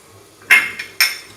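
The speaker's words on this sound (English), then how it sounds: "Let's place a lid on it and let it cook for on a medium flame." A metal lid set onto a pot of Punjabi-style dal tadka on a medium flame makes two sharp, close metallic clanks about half a second apart, then fades back to quiet.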